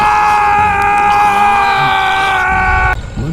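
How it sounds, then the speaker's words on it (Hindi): A man screams while being choked in a Hindi horror animation, one long, loud strained cry held for about three seconds before cutting off abruptly. "मनीष की चीख महल की दीवारों में ही सिमट कर रह गई।"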